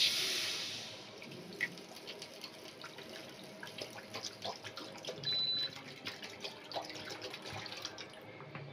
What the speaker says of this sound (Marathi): आता बघा मी पाणी टाकलेलं आहे।